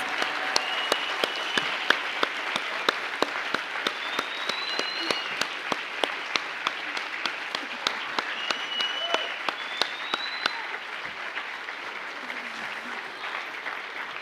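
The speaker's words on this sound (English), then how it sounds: "Let's give them a round of applause in acknowledgement of their hard work and success." Graduation ceremony audience applauding graduate students at a fall hooding ceremony, a long steady round of hand clapping with some sharper near claps standing out, fading slightly toward the end, with no speech over it.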